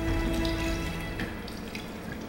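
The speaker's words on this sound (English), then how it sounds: "Oh, I hear water." Running water in the Fahrenheit video game, a steady trickling, faucet-like stream with a faint tonal hum, fading slightly over its length.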